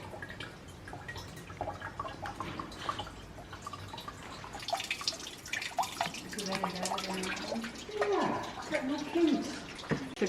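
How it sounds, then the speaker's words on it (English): A ram pump sends water trickling and dripping into a tank at the top of an abandoned greenhouse, a faint, irregular patter heard alongside outdoor noise and a voice. "we have water filling up here at the very top"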